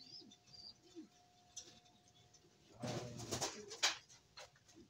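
Pigeon chicks in a loft give soft, low cooing calls near and faint, with a louder burst of bird sounds and rustling in the middle.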